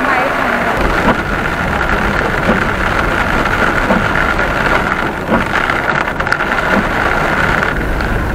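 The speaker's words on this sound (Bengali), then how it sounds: "প্রচন্ড মুসল ধারায় বৃষ্টি নেমেছে।" Heavy monsoon downpour in the hills near Darjeeling on a motorbike ride, a dense, steady roar of rain drumming close by without letup throughout.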